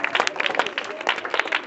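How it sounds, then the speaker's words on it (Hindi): Students in a maths classroom clap their hands together in a quick, lively burst of close, rhythmic claps lasting under two seconds. "ठीक है उसको ताली बजा दो वहीं से।"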